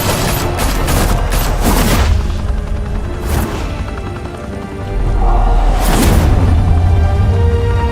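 Gunfire in the Batman Telltale Series game, several loud bursts of shots and booms separated by brief lulls, with whooshing effects and a background music bed.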